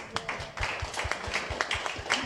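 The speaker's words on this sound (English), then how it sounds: "please, the round of applause to Constance" A small audience at a Cannes Film Festival panel claps sparsely for film director Constance, the separate hand claps quick and close together, with a low murmur underneath.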